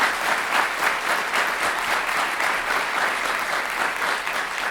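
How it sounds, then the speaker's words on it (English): A large audience at a university State of the University address breaks into sustained, dense applause to welcome a speaker to the podium, steady and full throughout with no break and no one talking over it. "Let's give him a huge round of applause."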